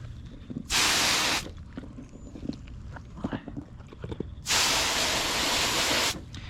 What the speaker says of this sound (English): Now we're going to do the tires. So spray them down.